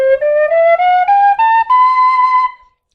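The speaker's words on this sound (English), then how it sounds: "on a tin whistle, you need to blow quite softly to get your first set of notes" A tin whistle is blown softly in its lower octave, climbing through a series of clear, pure notes in steps with brief breaks, close and fairly loud, then fading out near the end.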